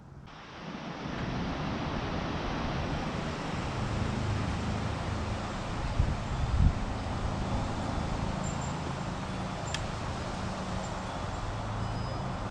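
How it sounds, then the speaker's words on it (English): Steady, loud wind gusting outdoors past a woodworking shop, with a broad rushing roar and low rumble throughout, one brief louder buffet near the middle. "I told you, it is quite windy today."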